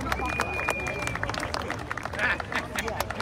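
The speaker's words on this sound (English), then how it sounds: "Give him a big round of applause there." An audience at a pirate-themed fundraising event in Bermuda claps for a participant, a busy burst of applause mixed with crowd chatter and voices across the room.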